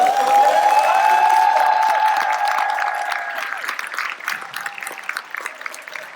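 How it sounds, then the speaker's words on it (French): Crowd of nursing care directors applauds as a speaker is welcomed, steady dense clapping at first over a sustained tonal sound, then thinning into scattered claps. "j'étais accueilli sous un tonnerre d'applaudissements"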